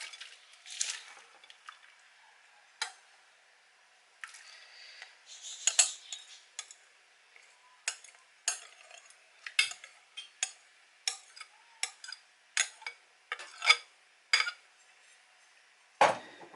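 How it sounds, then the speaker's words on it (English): Dry bulgur is added to a pot of water and stirred in, making scattered close utensil scrapes and clinks against the pot with soft squishy stirring between them, quiet and without talk. "So now I'm going to be adding the bulgur to the pot."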